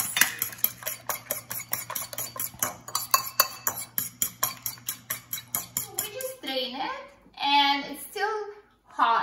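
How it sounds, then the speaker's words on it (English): Herbs are stirred into eggs in a bowl with a utensil, giving rapid, regular clinking strokes for several seconds. The stirring then stops and a person speaks briefly. "I just mix your herbs with the"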